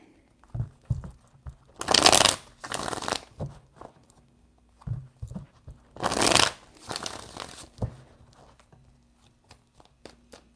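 Tarot cards shuffled in three bursts of riffling, the first two loud and crisp with a softer third, separated by quiet pauses and light handling taps close to the mic.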